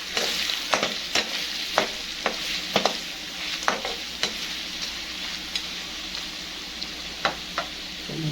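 Chicken jalfrezi fries in a pan with crushed coriander and turmeric, a continuous sizzle under regular sharp taps and scrapes from the stirring spoon, close and fairly loud with no voices.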